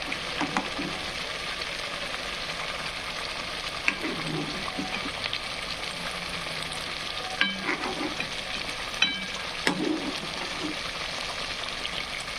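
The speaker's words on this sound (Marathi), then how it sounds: "भाजलेल्या मसाल्यामध्ये टाकून घ्यायचं आहे आपल्याला मटण" Mutton frying in roasted spices for a spicy mutton rassa curry, a steady broadband sizzle lasting throughout, with occasional louder crackles and the scrape of stirring, close and fairly loud, with no talking.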